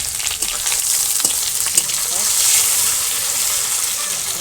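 An omelette of fish roe and chicken eggs fries in a village kitchen, a loud continuous sizzle with light stirring scrapes, close by and steady throughout.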